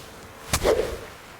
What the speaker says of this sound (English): this soundbar, which I was kind of being a little bit skeptical of, see if you can pick up the noise on this